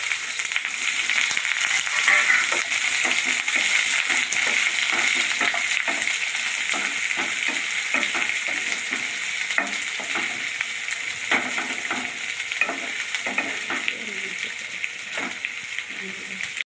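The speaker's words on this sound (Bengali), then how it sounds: "পেঁয়াজ কটা বেশি ভাজো না, লাল লাল না, একটু কাঁচা কাঁচা গন্ধটা চলে যাবে" Coarsely chopped onions, three of them, sizzle steadily in a pan while being stirred, with soft scraping strokes and a continuous frying hiss close by.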